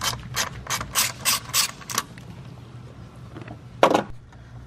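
A ratchet loosens the 10 mm bolt holding the charge pipe to the valve cover on a turbo Jeep Wrangler JL. Quick bursts of close, crisp clicking repeat for about two seconds, then one more short burst after a pause.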